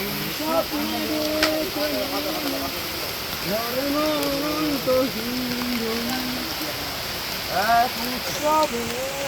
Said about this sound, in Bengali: বৃষ্টি হচ্ছে, প্রচুর বৃষ্টি এদিকে।